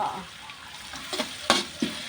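Minced chicken breast with garlic and chilies sizzles and scrapes in a hot oiled pan, with a few sharper stirring clatters standing out over a steady frying hiss.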